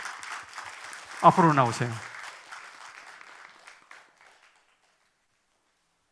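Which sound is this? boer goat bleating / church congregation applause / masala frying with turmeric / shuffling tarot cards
church congregation applause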